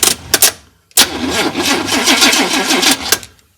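A 1947 Ford hot rod engine cranks on its starter after being jumped with a screwdriver, with no key on and a slightly weak battery: two short bursts, then a longer steady rhythmic cranking run that stops abruptly, loud and close.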